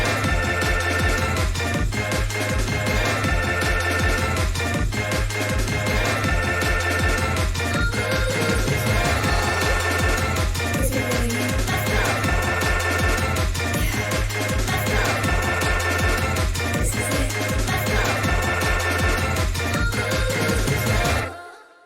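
An electronic music track plays loud and dense, built on a repeating synth stab with a chopped-up talking vocal over it. It holds a steady rhythmic loop for about twenty seconds before ending abruptly.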